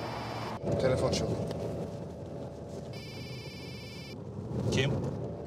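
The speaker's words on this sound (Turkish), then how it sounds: "Telefon çalıyor." A telephone rings in one short electronic burst lasting about a second, over a steady background with people talking before and after.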